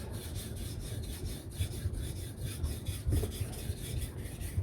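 Custom knife of MagnaCut steel being sharpened, with repeated rhythmic rasping strokes across a sharpening surface, close and fairly quiet, no voices.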